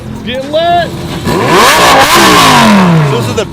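Pre-LP Lamborghini Gallardo with a 5-liter V10, loud revving with rising and falling engine pitch, heard alongside a person talking.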